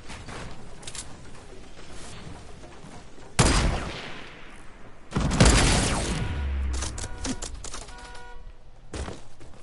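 Sniper rifle shots in Fortnite: two loud, sharp cracks a couple of seconds apart, each with a decaying tail, over steady game ambience with a few fainter impacts.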